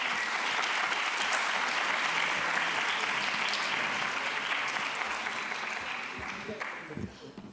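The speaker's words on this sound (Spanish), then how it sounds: "Un aplauso para ellos y os dejo con la mesa." An audience claps steadily together, a dense round of applause that holds for several seconds and then tapers off near the end.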